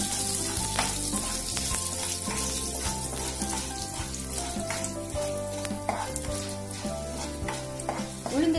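Dried red chillies fry in hot oil for tomato chutney, giving a steady, loud sizzle that runs through the whole stretch with faint stirring clinks on top, and no one speaks.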